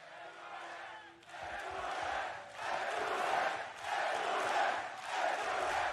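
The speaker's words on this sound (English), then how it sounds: "The crowd giving them the best chance, hyping up the PRX players, wanting them to get back into this game" Live crowd at an esports watch party for a Valorant grand final, cheering and chanting in rhythmic swelling waves to hype up the PRX players, loud and sustained with brief dips between surges.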